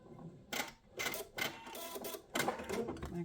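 Sewing machine stitching elastic onto a fabric book wrap, reversing and going back over the seam: short bursts of rapid mechanical whirring and clatter with brief pauses between, close and clear.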